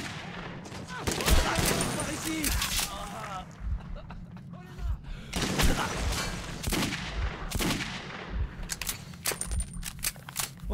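Gunfire in the survival shooter game Metro 2033, sharp repeated shots in irregular bursts with mechanical clatter between them, loud and close, with someone talking over parts of it.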